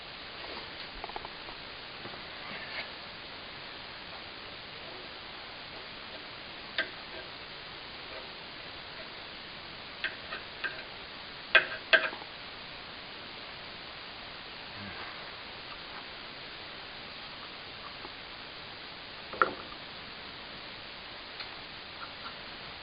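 A greased lawn mower wheel spins freely on its axle, giving faint, irregular ticks and light clicks over a soft steady hiss.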